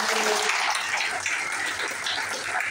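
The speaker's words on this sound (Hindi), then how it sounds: "एक बार जोरदार तालियां बनाते हैं" Audience applause fills a gathering in Indore, a dense, steady wash of many hands clapping together that stays loud and even from start to finish.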